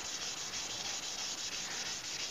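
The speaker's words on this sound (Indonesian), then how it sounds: "Kita gosok sampai lembut dan sampai rata untuk Mika dari headlamp mobil Innova ini." Hand sanding of a Toyota Innova car headlamp lens, the plastic lens being abraded smooth and flat to remove yellowing: a continuous, even, rhythmic rubbing scrape, close and steady, with no voices.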